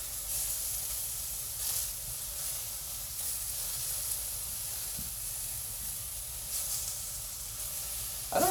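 Mushrooms sizzle in a hot pan for a mole, a soft continuous hiss of frying with gentle crackle swells, heard alone and fairly quiet.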